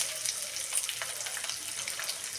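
Onion frying in hot oil with mustard seeds and cumin: a continuous close crackling sizzle with small pops, steady and unbroken for the whole stretch, with no voices.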